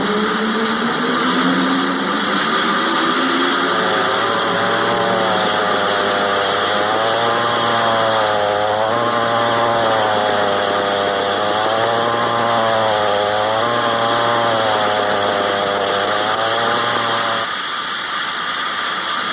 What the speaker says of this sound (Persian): این اره چه چهچه ای را انداخته، عین بلبل داره میخونه.